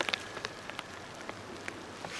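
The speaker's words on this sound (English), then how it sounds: "This just sucks getting rained on. The camera's getting rained on," Rain falling outdoors and landing directly on a camera, scattered sharp drop ticks spread irregularly over a steady soft patter, close to the microphone with no voices.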